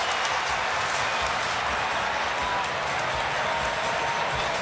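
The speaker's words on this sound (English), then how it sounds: "you can tell by the roar of the crowd whose ball it is" Dense, steady crowd roar fills a college basketball arena during Clemson at Syracuse, a loud broadband wash of cheering voices and some clapping, continuous for several seconds with no single voice standing out.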